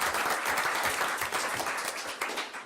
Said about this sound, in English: So if we can get a round of applause for Sandra,